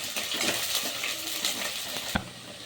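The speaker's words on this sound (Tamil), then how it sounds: "வெங்காயம் நல்லா வதங்கணும்." Onions sauté in a pan after mustard seeds, for a sardine fish curry, making a dense continuous sizzle with rapid stirring scrapes and a single sharp metallic knock near the end.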